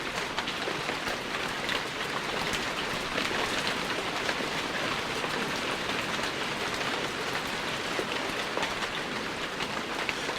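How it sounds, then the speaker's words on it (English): Heavy rain pouring down steadily, a dense, unbroken hiss of drops hitting surfaces, loud and close with no voices and no letup. "It rained like it would never stop."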